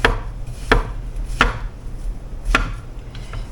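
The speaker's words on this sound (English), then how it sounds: "while I slice up a few of these mushrooms here" Knife slicing mushrooms on a cutting board, four sharp, distinct chops at uneven intervals, close and clear with no talking.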